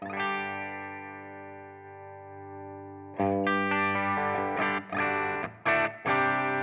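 A Gibson Les Paul Standard 60s through a Line 6 Helix German Xtra Blue amp model: an overdriven chord rings out and slowly decays, then a quick run of gritty, distorted chord stabs with short pauses.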